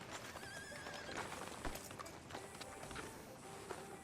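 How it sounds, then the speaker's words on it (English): A horse whinnies and its hooves clip-clop in the video game Red Dead Redemption 2, a neigh rising over steady hoofbeats, fairly faint amid ambient outdoor noise with no talk. "Can you grab Anders off your horse and carry him in for me?"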